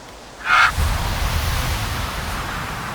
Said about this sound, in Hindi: अबे कौवे की आवाज़ निकाली ईगल ने